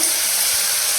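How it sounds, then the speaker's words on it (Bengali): Shrimp frying in a pan, a dense, steady high hiss of sizzling oil filling the whole short moment without any break. "তো চলো চিংড়ি মাছটাও ভাজা হয়ে গেল"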